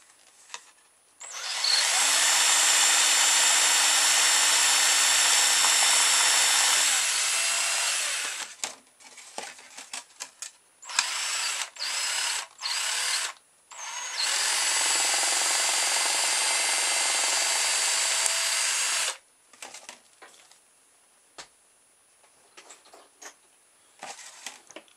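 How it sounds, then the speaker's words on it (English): A power drill bores holes in small parts for a rubber-band-powered car built with printer-roller wheels, enlarging each hole step by step: two long, loud steady whirring runs separated by short bursts of spinning up and stopping. "My technique for making the holes in these is to start small and work my way up."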